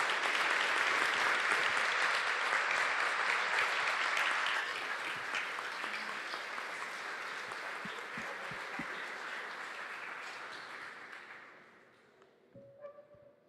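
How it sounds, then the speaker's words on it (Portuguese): Church congregation applauding, loud sustained clapping that fades gradually and stops after about eleven seconds, followed by a few scattered taps and thuds. "Aplaudamos os nossos celibatários."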